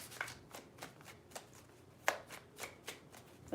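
Tarot cards are shuffled by hand in a quiet, close series of soft, crisp riffles and taps, about seven distinct flicks in an uneven rhythm, one sharper than the rest.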